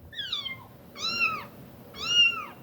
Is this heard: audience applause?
no